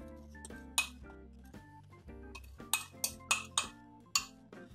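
A fork mixes cocoa cream powder in a pan, making a series of sharp metallic clinks, single taps and quick clusters, close and fairly quiet with low ringing between strikes.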